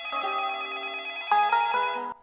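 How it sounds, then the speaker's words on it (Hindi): Phone ringing in a Hindi cartoon: a bright electronic ringtone with a repeating melodic pattern, clear and alone, cutting off after about two seconds. "तभी अंकिता का फोन आता है।"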